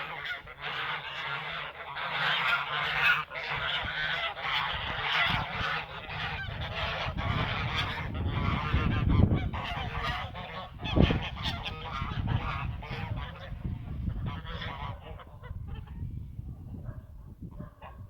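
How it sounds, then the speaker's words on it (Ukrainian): A flock of geese honking continuously and noisily in winter, many overlapping calls close by, with a few louder squawks rising out of the clamor. "Так, значить, виглядають наші гуси."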